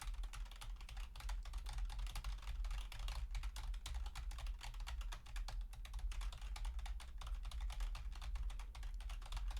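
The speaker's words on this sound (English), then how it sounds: "And she starts to type on her computer again." A receptionist types on a computer keyboard, producing a quiet, close, continuous patter of rapid key clicks with no voices.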